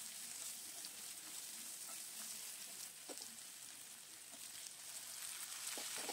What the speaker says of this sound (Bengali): এবার পেঁয়াজটা একটু ভালো করে ভাজা করব।